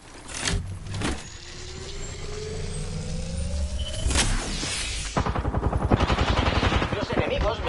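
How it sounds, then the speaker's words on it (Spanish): Enemy gunfire in a PS4 shooter: sharp shots, then a long rattling burst of rapid automatic fire, loud and close, with mechanical hisses and engine-like drones in the background. "Los enemigos me están disparando"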